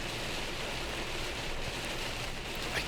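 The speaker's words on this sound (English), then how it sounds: "There's nothing like a pleasant nighttime drive in the fucking pouring rain" Heavy rain pours down during a nighttime drive along a narrow road, a steady, dense broadband hiss of rain and road noise throughout with no voices.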